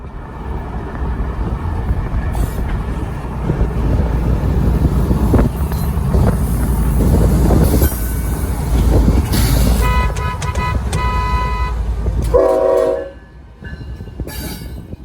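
Norfolk Southern freight train rumbling past with wheel squeal, a loud close roar that drops off near the end, where a few short horn toots sound as a salute.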